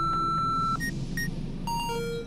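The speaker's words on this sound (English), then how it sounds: "Traces of explosives have been detected, triggering an alarm." An explosive trace detector sounds electronic alarm beeps during an exercise in an underground setting: a sustained tone followed by several short higher beeps over a steady background hum, no talking.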